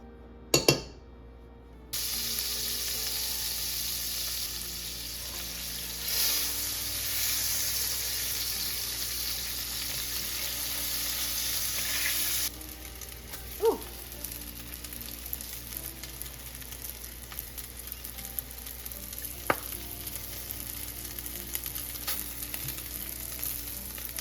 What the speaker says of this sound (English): we've boiled all of our dumplings and now it's time to fry them